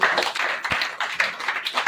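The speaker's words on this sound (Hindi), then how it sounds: "तो चलिए जबरदस्त ताली।" An audience at a DXN business meeting breaks into enthusiastic clapping, a dense, steady patter of many hands that keeps going for about two seconds with no one talking over it.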